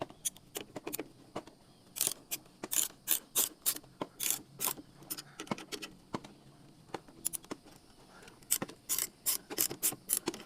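A ratchet wrench tightening two nuts on a trailer light during an LED light kit installation, giving repeated close, crisp clicking bursts in an irregular rhythm with brief pauses between strokes.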